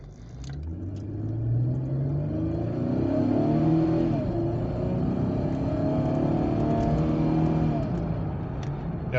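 An automatic Camaro V6 pulls away hard from a stop, its engine note rising steadily into a sustained rumbling drone, heard from inside the car without talking.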